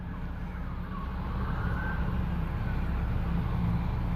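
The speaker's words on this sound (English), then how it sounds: "I hear more sirens coming in as well." Emergency vehicle sirens wail at a distance, a steady high tone carried over low traffic rumble at a scene where firefighters and police were shot, with no talk over it.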